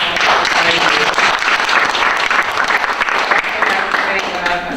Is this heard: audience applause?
yes